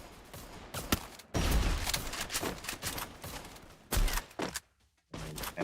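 Rapid bursts of gunfire in the battle royale game Free Fire crack out in uneven volleys with short pauses and one brief silence, loud and close, with no talk over them.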